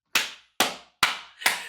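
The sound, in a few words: loud hand clap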